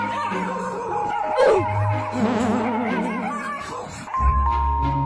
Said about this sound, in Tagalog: Ito naman ang aso na nang-agaw ng pagkain sa mga nagkakagulong aso.